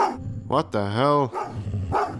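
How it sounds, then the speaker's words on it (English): A dog in Goosebumps: The Game on Nintendo Switch lets out a loud, drawn-out snarling bark, close and sharp, between bursts of talking. "That dog attacked as soon as you entered your neighborhood."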